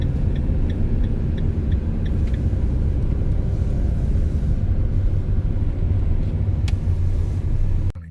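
A car drives into a Copart vehicle auction yard in the UK, giving a steady, close low rumble of engine and road noise for the whole stretch with no talking, ending in a brief drop.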